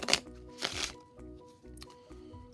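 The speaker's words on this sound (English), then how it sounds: "you can take your deck right here and you can shuffle these cards up" A deck of playing cards being shuffled for a magic trick, with two short riffling bursts and lighter card handling between them, close and moderately loud, no one talking.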